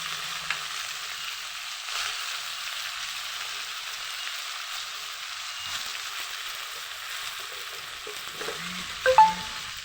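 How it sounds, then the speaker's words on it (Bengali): Potatoes seasoned with turmeric and salt fry and get stirred in a pan, giving a steady, even sizzle with a few soft scraping clicks near the end. "নাড়াচাড়া করে নেবো। এখন ভাজবো শুধু।"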